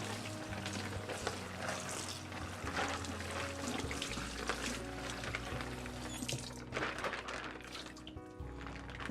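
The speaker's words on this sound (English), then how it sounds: "And that's how you wash out a baggie." Tap water running and splashing as a plastic food storage bag is rinsed out at a kitchen sink, a continuous close hissing trickle with soft crinkling and sloshing.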